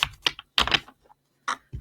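Several quick crisp bursts of cards riffling and snapping together, with short pauses between them.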